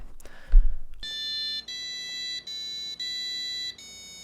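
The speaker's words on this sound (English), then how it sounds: "the active is either it just beeps or it doesn't" A shrill active electronic buzzer component beeps at a single fixed pitch in several sustained tones separated by short gaps, after a brief soft thump at the start.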